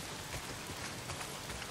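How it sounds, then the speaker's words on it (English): Heavy rain pours steadily in the open world of Days Gone, a dense, even hiss of drops on surfaces filling the whole moment with no other sound standing out. "Well, not if it's pissing down rain."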